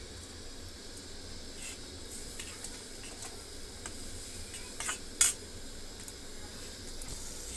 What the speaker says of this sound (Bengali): তার সঙ্গে আমি আবার লবণ দিয়ে দিলাম, ভালোভাবে নেড়ে নেব।